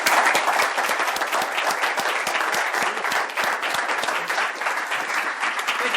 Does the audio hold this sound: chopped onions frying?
no